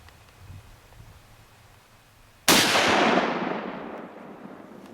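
A single loud, sharp rifle gunshot cracks out during a Pennsylvania rifle-season deer hunt, its outdoor echo decaying over about two seconds after a quiet lead-in.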